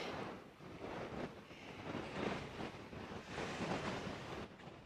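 Wind blowing steadily over the rugged coast of the Isle of Skye, a soft, continuous rushing with gentle surges, heard alone and fairly faint.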